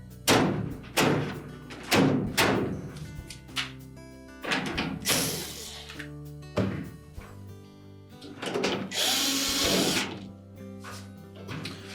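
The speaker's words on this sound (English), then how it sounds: "So reinstall the screws that secure that shield to the frame." Screws being driven in by a power driver to secure a shield on a GE washer frame: several loud, close bursts of whirring and thudding contact, some spaced apart, with knocks and clatter between them and no talk.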